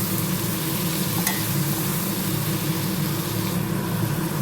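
Sliced onions with salt frying in a pan, a dense continuous sizzle with faint stirring scrapes, steady and close, with no talking.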